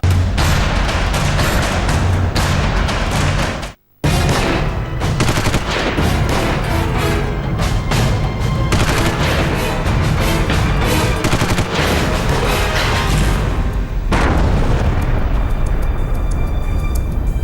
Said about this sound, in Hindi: इस जोरदार धमाके के साथ आतंक का अड्डा ध्वस्त हो गया